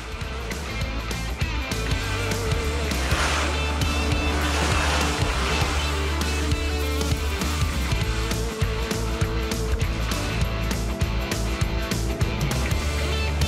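Race cars roar and accelerate hard after a restart in a EuroRacecar race at the Tours circuit, loud engines blaring continuously with revs rising and cars passing close by, with tire squeal mixed in.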